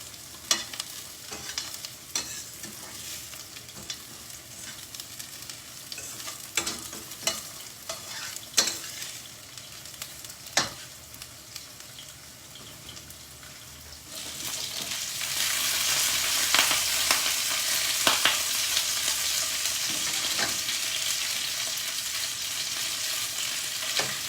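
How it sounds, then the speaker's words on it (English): Diced potatoes fry in a pan and are stirred, a steady sizzle broken by scraping strokes that grows louder and denser partway through, with no talking. "These potatoes are turning a little golden, but we'll keep on moving them and let them cook"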